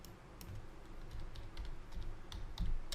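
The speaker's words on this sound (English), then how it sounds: "I'm going to type in here crypto" Quick bursts of keystrokes on a computer keyboard, a close, quiet patter of uneven clicks running for a few seconds with no voices.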